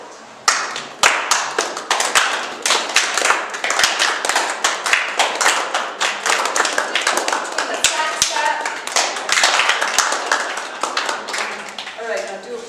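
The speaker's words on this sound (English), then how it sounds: "The other kind of flamenco clap has got a hollow pop to it, and you cup your hand just a little bit." Sharp flamenco hand claps with cupped palms giving a hollow pop, struck in a fast, steady rhythm at an open mic night, loud and close with voices and room noise underneath.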